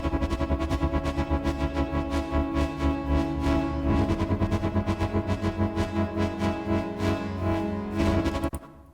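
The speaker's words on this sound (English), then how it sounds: "Then I add another portal with the preset exponential space" Synth played through a portal-style effect on an exponential space preset, for electronic music: dense, loud, smeared spacey texture with a steady pulsing rhythm throughout, cutting off abruptly near the end.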